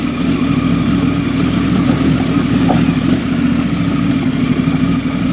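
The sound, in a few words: vehicle engine braking in first gear downhill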